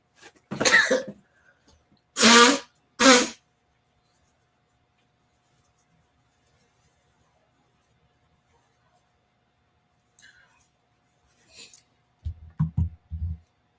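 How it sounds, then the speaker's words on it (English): A couple of sharp, loud sneeze-like bursts close to the microphone, then silence, later some faint rustles and a few low thumps. "I gotta sneeze again"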